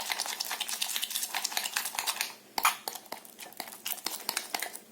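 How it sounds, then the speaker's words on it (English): Homemade slime mixture stirred very fast in a container, giving rapid clicking and tapping scrapes in a quick irregular rhythm, fairly close and moderately quiet. "completely stir it continuously, very fast"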